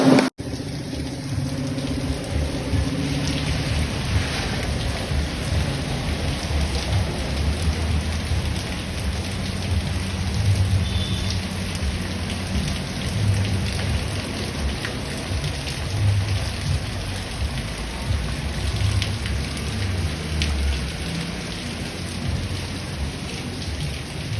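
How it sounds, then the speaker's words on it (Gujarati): Heavy rain pours steadily at night over a village, a dense and constant roar throughout with faint rumbles that may be distant thunder. "કણજામાં તો જોરદાર વરસાદે ચાલુ થઈ ગયો"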